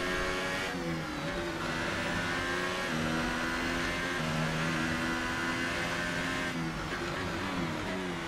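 Formula One race car engines in an F1 video game at the Hungary GP roar steadily with shifting revs and gear changes, slower lapped cars around, loud and continuous with no voices.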